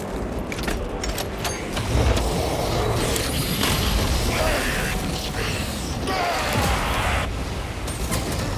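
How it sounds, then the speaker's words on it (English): A weapon reloading in Warhammer 40000: Space Marine 2, with metallic clicks and ratcheting mechanism sounds buried in a dense, steady wash of loud battle noise. "Reloading weapon."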